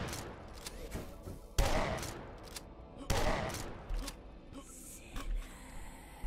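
Gunfire rattles against enemies in the retro shooter Dusk, in a mine level: several sharp bursts and shots spaced across the clip, moderately quiet, with a few mechanical clanks between them.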